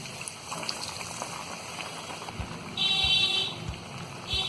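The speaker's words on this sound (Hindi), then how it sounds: "और गर्मा गर्म तेल में हम इसे डालते जाएंगे।" Bread potato vadas sizzling in hot oil in a kadai, a soft, steady bubbling crackle at low volume that swells slightly partway through, with no talking.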